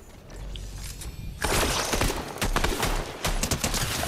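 Fortnite gunfire erupts after a quieter start into a dense, loud fusillade of rapid shots and impacts that keeps hammering in uneven bursts to the end.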